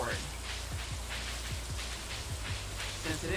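Steady rain falls in the Stardew Valley video game as a soft, even hiss with no breaks, running under a person talking throughout.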